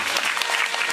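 An audience at a Bhagwat Katha claps together in a dense, steady burst of applause, close and loud throughout the short moment.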